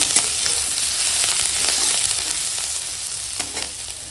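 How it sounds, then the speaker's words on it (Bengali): Vegetables fry with whole cumin and green chili in a pan, a loud continuous sizzle that fades slightly toward the end, with no voices over it. "এবার একসঙ্গে ভাজবো"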